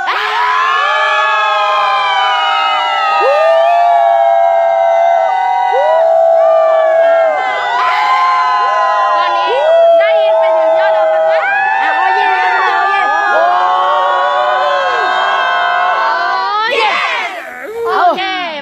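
A crowd of people at a live motivational event screaming together loudly and continuously for several seconds, many high voices blending into a sustained shout that swells near the end.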